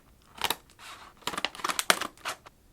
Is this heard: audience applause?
no